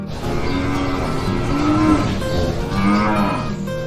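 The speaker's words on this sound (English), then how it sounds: "cow." A cow moos loudly and steadily, a sustained low bellow with a rising and falling pitch that carries on for nearly four seconds, heard alone and close.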